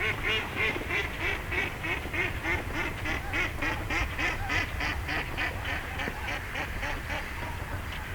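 A duck call imitates a mallard hen's long greeting call: a close, loud, evenly paced run of around twenty quacks that continues without a break.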